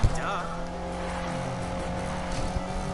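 A car in the racing video game Need for Speed drifts with its engine revving and a high, wavering tire squeal, the strained whine holding steady for the full few seconds.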